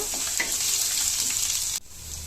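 Ginger and garlic frying in a pan with chana dal for capsicum and green peas upma, a steady loud sizzle with stirring scrapes that cuts off abruptly near the end.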